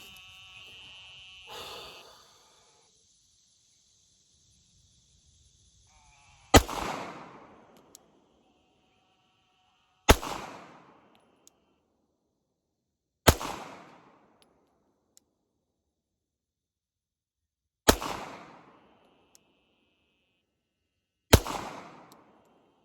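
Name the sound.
Glock pistol shots with threaded barrel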